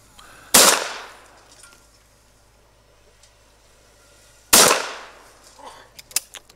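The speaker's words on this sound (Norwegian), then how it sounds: "Før de to siste skudda." Two loud, sharp rifle shots, about four seconds apart, ring out at a Norwegian figure-target shooting championship final in 2019, each followed by a decaying echo, with faint scattered clicks and movement afterward.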